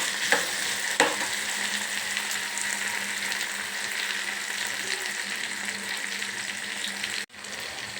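Potatoes fry in a pan with a loud, continuous sizzle, marked by a couple of sharp stirring clacks near the start, then an abrupt brief drop just before the end.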